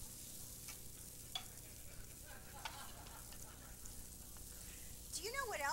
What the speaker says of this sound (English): Don't you hear them sizzle?